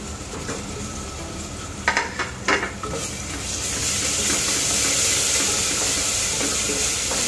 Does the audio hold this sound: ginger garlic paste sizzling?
yes